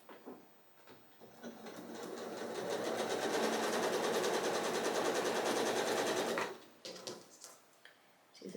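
A sewing machine stitches a quilt seam in one steady, close, rapid whirring run of several seconds, with a few faint fabric rustles and handling sounds before and after.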